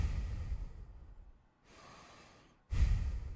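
A voice imitates someone breathing against an ear, two close, heavy breathy exhalations separated by a quieter softer breath and a brief pause, performed alone without words.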